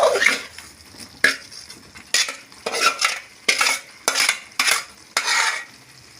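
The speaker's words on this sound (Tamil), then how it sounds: "நல்லா கலந்து விட்டுக்கலாங்க." Fried brinjal being stirred into tomato masala in a pan, a spoon scraping in about nine distinct rhythmic strokes, each a sharp metallic scrape over a soft sizzle, close and alone with no talk.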